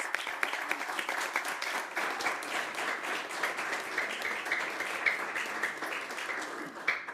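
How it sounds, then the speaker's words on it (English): Applause at a city council meeting honoring the Employee of the Month, a continuous patter of many hands clapping in a room, moderate and steady with a few sharper claps and faint voices mixed in. "Rick Armstrong is our January 2026 Employee of the Month. Absolutely. Round of applause."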